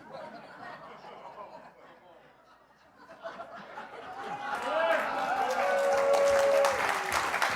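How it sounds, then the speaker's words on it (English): A studio audience at a late-night comedy talk show breaks into applause that swells from scattered claps into loud, sustained clapping mixed with some laughter, after someone speaks over a quieter room. "I have no idea why you're clapping for that"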